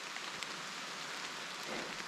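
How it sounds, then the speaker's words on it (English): Rain falls steadily at a campsite, a dense, even hiss of drops on surfaces with no other sounds and no letup. "Raining. We knew it was going to."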